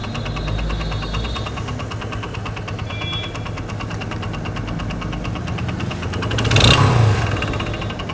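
A motorcycle engine runs steadily during an engine flush, a continuous close mechanical drone with a short louder rev near the end.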